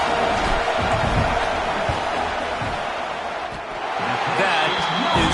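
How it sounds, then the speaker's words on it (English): Football stadium crowd roaring loudly during a field goal attempt in a Texas vs Michigan game, a dense sustained wall of noise with a commentator talking over it. "This crowd trying to do its part to get inside the kicker's head."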